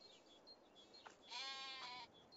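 A single drawn-out sheep bleat rises from a Farming Simulator 22 farm on the Rennebu, Norway map, with shorter faint bleats before it over quiet ambient game sound.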